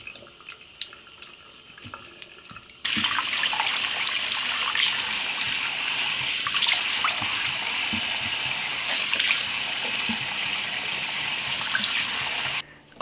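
A bathroom tap gushes steadily into a sink while a face mask is washed off, starting abruptly after a few quiet seconds with faint handling sounds. The flow stays loud and even until it shuts off near the end.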